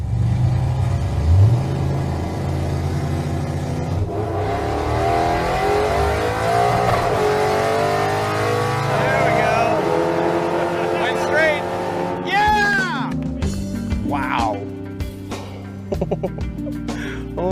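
Drag car on a pass with nitrous engaged, its engine roaring and climbing in pitch through the gears as it accelerates away, with excited voices talking over it and cheering.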